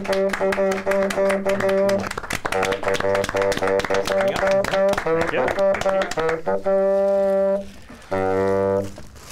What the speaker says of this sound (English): please, ladies and gentlemen, round of applause